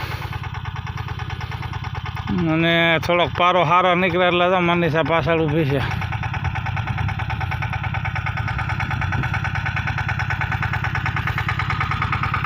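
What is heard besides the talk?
tractor engine arriving in peanut field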